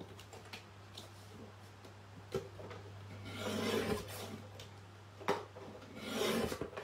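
A paper trimmer blade slides across watercolour card, giving rasping, scraping strokes with two louder swells and a couple of sharp clicks, close and fairly quiet with no talking.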